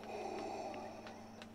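Darth Vader's mechanical respirator breathing in the Lego Star Wars: The Skywalker Saga video game: a slow, raspy, rhythmic inhale and exhale, fairly quiet, with a few soft ticks over it.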